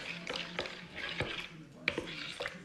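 An oat milk hand wash mixture being stirred in a bowl, with soft scraping swirls and a few sharper clinks of utensil on the container, close and fairly quiet, while someone talks over it.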